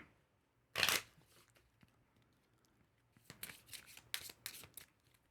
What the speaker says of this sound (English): we'll take those and we'll shuffle it into our deck